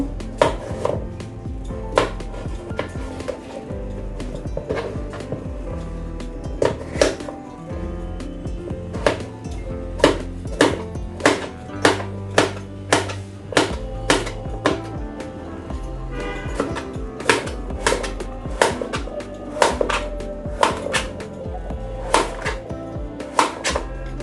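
A knife cuts through papaya on a board, a long series of crisp, loud, close thuds in an uneven but steady rhythm, with no talk.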